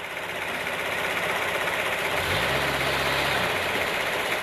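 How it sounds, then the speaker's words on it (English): A Fiat Panda's 0.9-liter two-cylinder TwinAir gasoline engine runs steadily at close range, a continuous mid-pitched drone with a deeper tone swelling in about halfway through. "The new Panda is outfitted with an especially fuel-efficient 2-cylinder twin-air gasoline engine, just like the Fiat 500."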